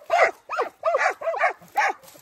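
Dogs bark in a quick series of five sharp, close barks with short gaps between them.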